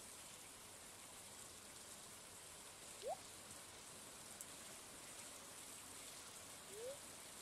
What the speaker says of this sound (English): watching the curtains of rain whisper above a silent lake